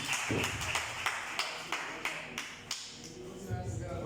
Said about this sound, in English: With the round of applause, let's welcome Pastor Labali to give us the last session for 15 minutes.